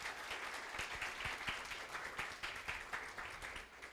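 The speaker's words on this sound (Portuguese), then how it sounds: "Vamos dar uma forte salva de palmas para a equipe de hoje?" A congregation at a church renewal gathering claps for the day's serving team, a steady, fairly distant patter of many hands with individual claps popping through, no voices over it.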